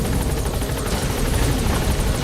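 A helicopter touching down in Metal Gear Solid 5: The Phantom Pain roars close and loud, its dense rotor wash and blade chop churning without pause.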